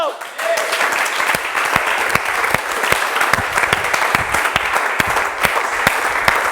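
A church congregation claps loudly and steadily, dense applause with sharp individual claps standing out throughout.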